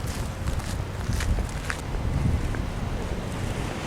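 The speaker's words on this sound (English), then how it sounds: "The wind is blowing and it's going to block my speaking." Gusting wind buffets an outdoor microphone in a continuous low rumble and roar. It surges slightly in strength throughout, with no voice heard.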